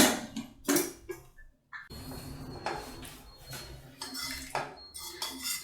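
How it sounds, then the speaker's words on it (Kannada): Lid of a pressure cooker of cooked horsegram lifted off after the pressure is released, with a few close metallic clanks, scrapes and clatters, then a steady soft hiss. "ಲಿಡ್ ಓಪನ್ ಮಾಡ್ಕೊಳ್ತೀನಿ."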